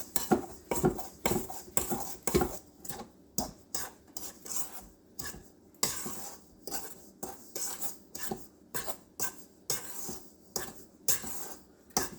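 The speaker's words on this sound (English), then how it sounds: "I like to mix that up a little bit so that it maybe won't be lumpy." A spoon or whisk scrapes and clinks rhythmically in a bowl while prune cake batter with sugar is mixed, a steady series of sharp strokes, close and fairly quiet, with no talking.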